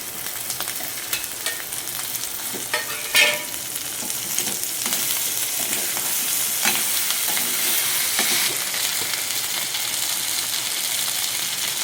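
Taro pieces frying in a pan with turmeric, a steady loud sizzle with intermittent stirring scrapes and clatter from a spoon throughout.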